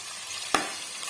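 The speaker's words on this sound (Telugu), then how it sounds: "అల్లం వెల్లుల్లి పేస్ట్ ఇది కూడా వేగనించుకుందాము" Ginger garlic paste is dropped into hot oil in a pan with a single sharp burst of sizzle. A soft, steady frying hiss follows, close and alone while carrot rice is being prepared.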